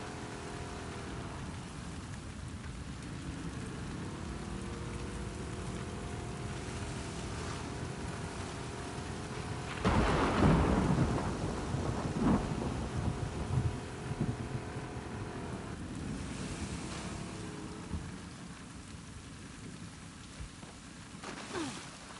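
Steady rain and a rumbling thunderstorm in The Last of Us video game, a constant hiss of rainfall with a louder swell of thunder around the middle, heard alone without voices.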